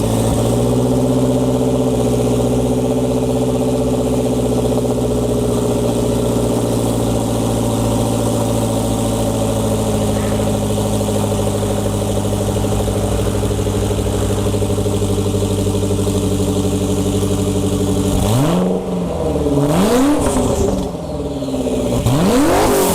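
A Lotus Esprit Twin Turbo V8 with a new aftermarket exhaust idles loud and close with a steady, deep drone for most of the run, then blips the throttle in a few sharp revs near the end.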